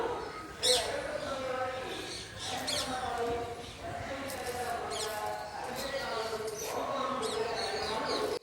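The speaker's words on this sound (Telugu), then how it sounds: "పక్షులు చేసే సౌండ్స్" Birds call and chirp in a home garden, short bright repeated notes recurring through the scene, mixed with people talking nearby and a distant loudspeaker announcement.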